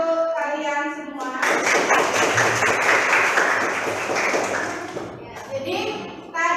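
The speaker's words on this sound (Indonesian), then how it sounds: "Tepuk tangan untuk kalian semua." A group claps together for several seconds, a dense burst of applause between short stretches of talking.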